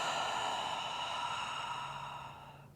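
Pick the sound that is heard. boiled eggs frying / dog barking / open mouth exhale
open mouth exhale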